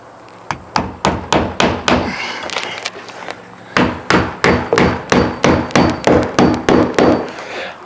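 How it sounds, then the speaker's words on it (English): A hammer drives nails into a window on a shed under construction with sharp, loud blows: a quick run of strikes, a short pause, then a steady, even series of about a dozen more hits. "Nail this corner off over here as well."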